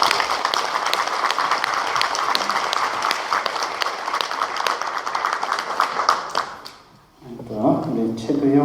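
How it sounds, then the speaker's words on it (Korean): A church congregation at Mass applauds warmly, a dense, sustained clapping that carries on for several seconds before fading out, then a voice begins speaking. "박수 한번 쳐줄까요?"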